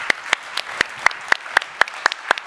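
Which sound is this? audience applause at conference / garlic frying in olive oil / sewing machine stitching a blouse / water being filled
audience applause at conference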